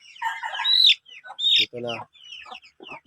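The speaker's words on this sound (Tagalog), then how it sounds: "Tapos ito na ang kalang sisiw." Native chicken chicks cluck and peep in short, bright bursts close by, with a brief spoken remark between the calls.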